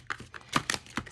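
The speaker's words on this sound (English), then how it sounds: "these cards do not want to shuffle" Tarot cards that resist being shuffled give a few quick, irregular snaps and clicks close up, with no talking.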